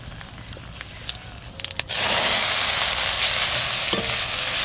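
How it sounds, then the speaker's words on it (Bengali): Mustard seeds and dried red chillies hit hot oil as a tempering for a sour fruit chutney: a few quiet clinks at first, then a sudden loud, steady sizzle with fine crackling that holds to the end. "ফোড়নে দেবো সর্ষে আর শুকনো লঙ্কা।"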